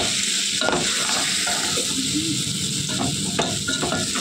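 Curry with chili powder fries in a pan, a dense close sizzle with steady stirring scrapes running throughout, loud and unbroken, with no voices.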